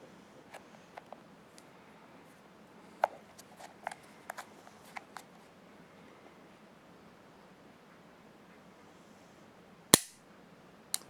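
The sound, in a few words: gunshots from a .500 Magnum revolver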